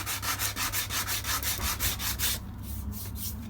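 Rough paint is sanded off the rear wheel of a Honda VTR 1000 Firestorm in quick, even back-and-forth strokes, a close rasping rhythm that turns softer and slower near the end.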